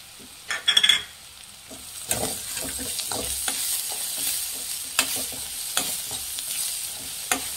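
Onions frying in a pan with turmeric powder being stirred: a steady soft sizzle with scraping spoon strokes against the pan, a few sharper clatters near the start, close and alone without talk.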